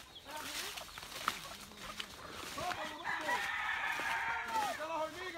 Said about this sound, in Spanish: hasta gallo tiene el compa aquí